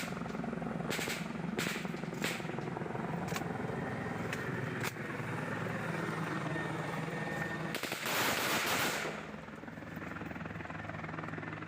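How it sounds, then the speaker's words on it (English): Shots fired at a Bell 412 helicopter, heard as a handful of sharp distant cracks spaced through a steady loud rotor and engine drone, with a burst of rushing noise near the end. "shows the TPN shooting at what appears to be a Bell 412 helicopter"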